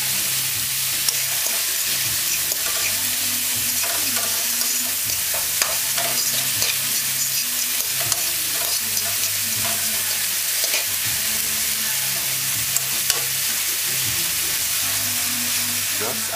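Beef mince and onion sauté in a pan over medium-high heat, giving a continuous close sizzle broken by repeated scraping stir strokes and small clicks.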